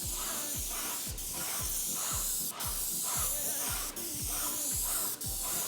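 Continuous loud hissing spray from an airless paint sprayer coating a door, with a pulsing mechanical thump beneath it, repeating at a steady rhythm, close and uninterrupted.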